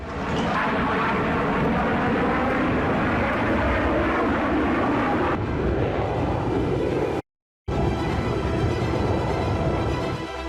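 US fighter jets such as the F-18 fly over Yemen, a loud, continuous roaring rumble that fills the air, broken by a brief cut to silence before the roar resumes.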